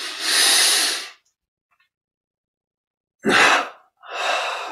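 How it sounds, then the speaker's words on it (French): During a yoga breathing exercise, a person takes a long, audible breath through the nostrils, pauses in silence, then takes a double inhalation: two quick, close sniffing intakes in succession. "Puis on prend une double inspire par les narines."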